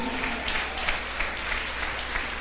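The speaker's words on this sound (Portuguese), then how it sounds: "Pode aplaudir o nome do Senhor Jesus?" A church congregation gives a dense, steady burst of applause during a sermon, with many hands clapping together at a fairly loud level and no voices on top.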